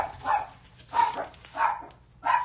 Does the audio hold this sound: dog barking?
yes